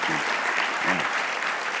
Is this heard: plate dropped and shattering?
no